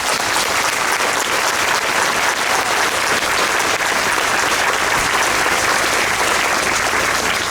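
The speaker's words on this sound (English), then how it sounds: "I have to give them a round of applause." Loud, dense applause from a large crowd at an outdoor community rally, a steady roar of clapping sustained throughout with no talking over it.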